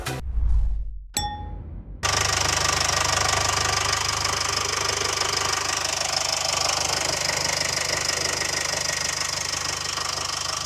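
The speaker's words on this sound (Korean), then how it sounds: "엔진 소리 굉장히 좋고요" A couple of metallic knocks and a clunk from the open engine bay, then a Mercedes-Benz GLC Coupe 220d 4MATIC diesel idles with a steady, rough rumble and clatter, close and continuous.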